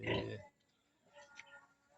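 A pig on a farm, a sow giving birth: one loud, harsh grunt-squeal at the start, followed by quieter rustling and faint noises, with no clear speech.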